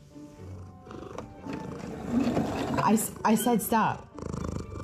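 A pet cat purrs close by while a person talks over it, the purr running low and continuous beneath the speech.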